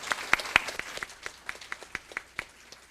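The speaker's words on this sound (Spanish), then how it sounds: "primero los aplausos para el conferencista" Applause for a lecturer at the close of a talk, heard as a small group clapping in distinct, spaced claps that thin out and grow sparser over about three seconds, with no voices.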